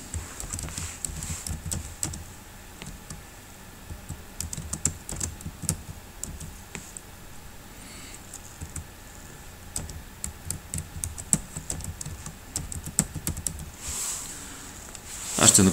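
Fingers type on a computer keyboard, producing faint, irregular bursts of light plastic clicks and taps, with a slightly louder clatter near the end and no talking.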